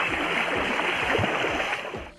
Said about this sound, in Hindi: हाँ देख कितनी स्पीड है पानी की